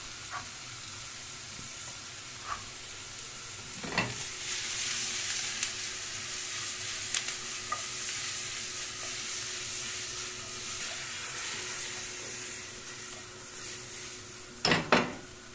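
Champignon mushrooms fry in a pan, giving a steady, even sizzle throughout, broken by a few sharp clicks and knocks of a utensil near the start and again at the end.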